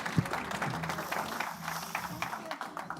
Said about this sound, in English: please, to put your hands together and give a very loving final applause to our speakers